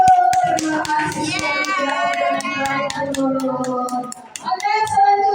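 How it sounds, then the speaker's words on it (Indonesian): Applause for Ibu Nurul in a school or training session, a burst of hand clapping from a small group mixed with children's voices and chatter, fairly loud and close, easing off briefly before picking up again. "tepuk tangan buat Ibu Nurul."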